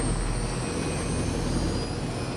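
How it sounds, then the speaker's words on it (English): An airplane crashes into Manhattan in the 1981 film Escape from New York, heard as a loud, steady engine roar with a broad rumbling wash of sound and no speech over it. "Are they really crashing an airplane in Manhattan?"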